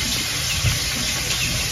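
Water gushes steadily into a pot for fish sinigang being cooked outdoors in Palawan, a continuous close hiss and rush without pauses and no talking over it.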